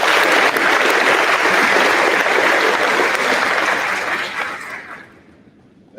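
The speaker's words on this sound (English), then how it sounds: "Could we please give them another round of applause?" A large audience at a senior awards ceremony claps in a loud sustained round of applause that holds for several seconds, then thins and fades out near the end.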